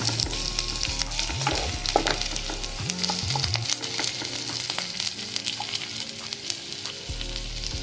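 Loud continuous sizzling of ingredients frying in oil in a pan for a fish, taro, potato and radish greens dish, with stirring scrapes throughout and no talking.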